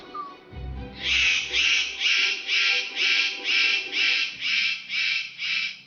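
A male superb bird of paradise gives a series of about ten evenly spaced, harsh, buzzy calls. Each call is a short burst, repeated in a steady rhythm, clear and close, after a brief low rumble.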